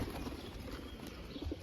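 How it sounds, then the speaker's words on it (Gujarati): A pigeon coos softly in a rainy outdoor setting, low soft murmuring calls in short pulses over a steady background hiss of rain. "કબૂતર છે."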